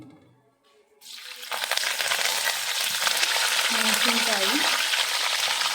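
Curry leaves hit hot oil for vermicelli upma, and a brief quiet gives way to a sudden loud, hissing crackle that stays strong and steady right up close.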